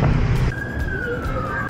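An ambulance siren wails along a busy Manila street near Binondo, a steady tone slowly sliding downward over loud, rumbling traffic noise, with a louder burst at the start.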